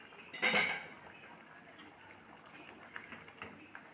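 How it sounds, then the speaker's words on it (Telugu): A lid comes down on a cooking pot in a home kitchen while bottle gourd dal is being made, giving one close metallic clank. Faint clinks and ticks follow, with no talk. "కొంచెం మూత పెడతా చూద్దాం ఎలా అయిందో"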